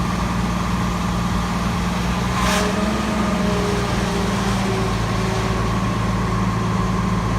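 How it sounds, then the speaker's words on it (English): Rosenbauer tanker pumper fire truck running its pump as the tank empties and it begins to cavitate, a loud steady engine and pump drone with shifting tonal whines and a brief surge partway through. "You heard the truck starting to cavitate."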